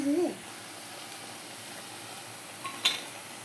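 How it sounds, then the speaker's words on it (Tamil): Chopped onion and tomato sauté in a pan for Tamil-style masala sundal, a soft, steady sizzle under a brief voice at the start, broken by a light utensil clink near the end. "நல்லா வெங்காய தக்காளியை வதக்கிடுவோமா?"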